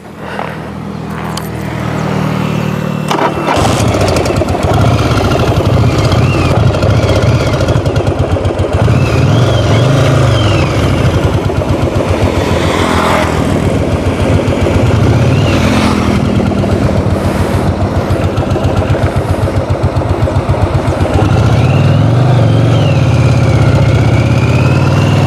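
A Yamaha Virago XV750 V-twin cruiser motorcycle cranks and fires up close by, then settles into a loud, throbbing idle with rhythmic low pulsing and occasional blips of the throttle.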